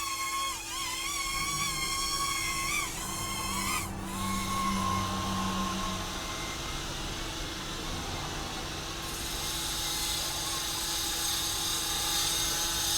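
A Syma X660 mini quadcopter drone flies nearby with a continuous high-pitched buzzing whine that rises and falls in pitch as it moves and maneuvers.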